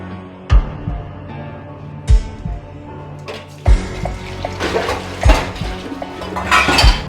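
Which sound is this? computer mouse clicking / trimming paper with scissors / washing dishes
washing dishes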